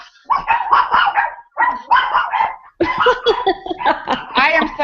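Dogs in a house barking repeatedly and loudly in several bursts of rapid barks with short gaps, close by, with no talk over them.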